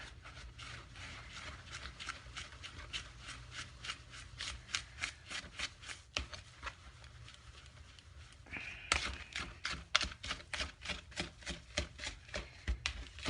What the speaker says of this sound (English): So I'm going to go ahead and whisk this all up.